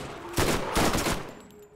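SMG gunfire in the video game Borderlands, two quick rapid bursts of close, loud shots lasting under two seconds, with no speech.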